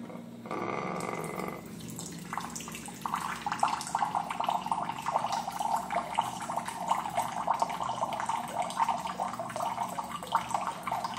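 A hydrogen water dispenser starts with a short beep, then pours water in a steady trickling stream into a cup for several seconds, close and moderately quiet.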